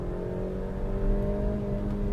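Maruti Victoris car engine held at high revs in manual M mode, a steady sustained drone with strong low harmonics, continuous and close for the whole stretch.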